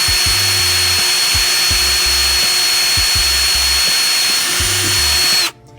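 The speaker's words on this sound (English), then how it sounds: "Just want to kind of let the drill do the work for you." A power drill is boring into a Dutch bucket. A loud, steady high whine runs throughout with low rhythmic thumps and pulses, and it cuts off abruptly near the end.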